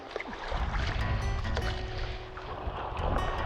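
Sea kayaks set off on open water in the Outer Hebrides, with paddle strokes and splashing against the hull under wind noise, close and continuous with no talk.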